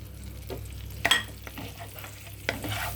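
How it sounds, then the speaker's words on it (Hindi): Whole spices sautéing in melted butter and oil, a soft steady sizzle under light stirring, with a couple of sharper clinks of a spoon against the pan. "खड़े मसालों को हल्का सा सौते करेंगे"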